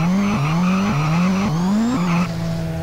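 In GTA San Andreas, a car engine revs loudly and close, climbing repeatedly through gear shifts in a sawtooth pattern before it settles toward idle.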